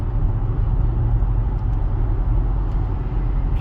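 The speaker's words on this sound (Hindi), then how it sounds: "पीछे ट्रैफिक एक के बाद एक चल रही है गाड़ियाँ" Highway traffic on a Canadian roadway, vehicles passing one after another: a steady broadband roar with low rumble, heard from inside or near a moving car, continuous and fairly loud with no talking.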